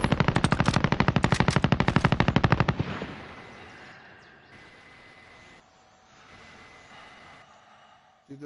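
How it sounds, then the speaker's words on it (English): Assault rifle in the video game Warzone fires a rapid automatic burst of about two dozen sharp, evenly spaced shots, then stops, leaving quieter ambient game noise. "Assault rifle."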